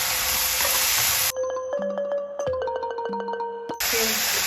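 Shrimp and vegetables with brown sugar sizzle loudly in a pan. The frying hiss breaks off for a stretch of bright chiming tones, then returns at full strength.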